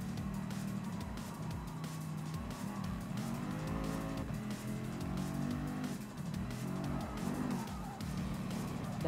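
A Mercedes-Benz AMG VGT race car in Gran Turismo Sport drives with a loud, continuous engine drone, rising and falling revs and bursts of tire noise, alone without talk.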